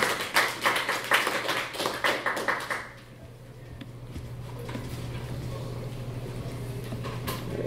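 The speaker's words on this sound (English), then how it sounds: "that would be a good time to clap." An audience at a tech conference talk applauds with a few seconds of scattered, fairly close hand claps, which then stop, leaving a quiet room hum with small taps and shuffles.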